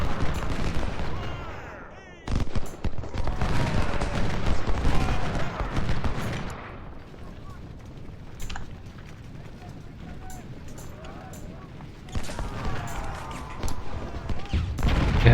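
Artillery and musket fire in the Ultimate General: Civil War battle game, bursts of booming shots and rattling volleys that fade to a quieter stretch before swelling again near the end.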